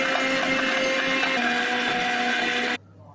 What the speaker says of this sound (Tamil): இப்போ பாருங்கள், தேங்காய், பச்சரிசி, ஏலக்காய் 3 இப்போ அரைக்க போகிறேன்.